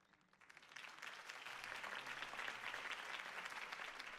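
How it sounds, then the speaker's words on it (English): Crowd applause in the video game Batman: The Telltale Series, a dense wash of clapping that swells up from quiet over the first second and then holds steady and full. "could have heard that applause"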